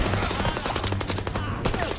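Loud, dense bursts of gunfire from a gun in the World War II shooter game Call of Duty WWII, rapid shots running continuously over game sound with no speech.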